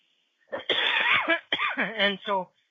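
A single person coughing up close, a harsh rasping burst that breaks into a rough, voiced hacking and trails off, with no other sound around it.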